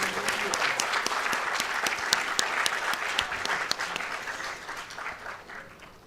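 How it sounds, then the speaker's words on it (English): Applause from the audience at a healthcare industry and academia summit: steady, dense clapping that holds for several seconds, then eases slightly toward the end, with no talk over it. "Please give a big round of applause."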